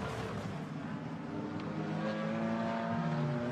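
An Allied Racing Porsche GT4 race car climbs the hill at Imola with a steady, fairly loud engine drone whose pitch rises gradually as it accelerates, and no voices are heard.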